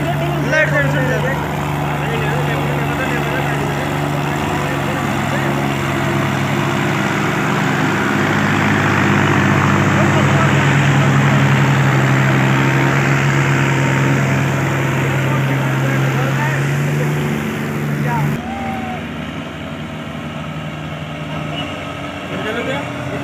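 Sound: Sonalika 60 tractor engine hauling gravel

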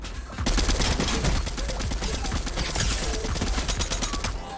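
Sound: gunfire in the video game Fortnite

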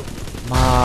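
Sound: gunfire from player shooting, from video game Bioshock 2

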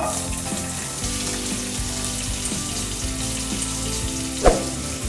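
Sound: thinly sliced onions frying in hot oil

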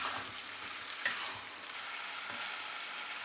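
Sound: mutton frying in a pan with turmeric powder

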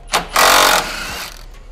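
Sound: wrenches removing sway bar bolts on car suspension

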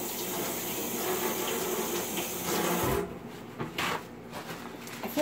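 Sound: washing hands under a running tap

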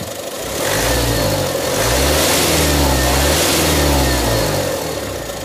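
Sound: Mazda 5 2.0 diesel engine revving

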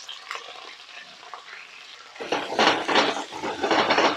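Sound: stir-frying chicken with carrots, chilies and cabbage

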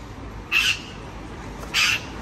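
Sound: birds crowing or quacking nearby

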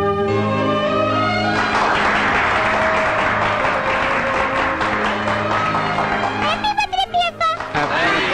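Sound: applause

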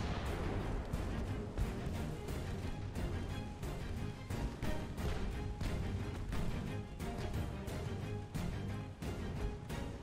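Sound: warship rear guns firing in Ultimate Admiral: Dreadnoughts video game

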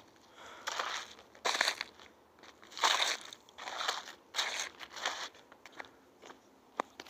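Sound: crunching through ice underfoot

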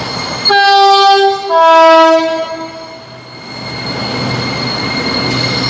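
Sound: electric train running on test run

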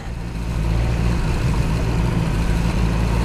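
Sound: BMW S1000R straight-four motorcycle engine at low revs

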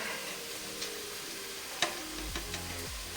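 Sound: onion frying in a pan

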